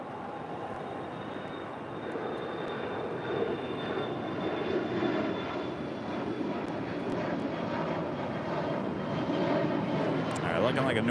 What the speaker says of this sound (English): Coming in from Calgary, that is Air Canada, flight 577 on the 737 MAX 8